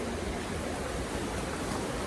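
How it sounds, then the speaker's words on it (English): A waterfall gives a dense, continuous roar of rushing water. It is loud and steady throughout, with no talk. "we are at this waterfall here."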